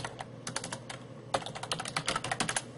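Steady typing on a computer keyboard while entering figures for an income statement, with quick irregular key clicks in bursts, close and fairly loud, no talking.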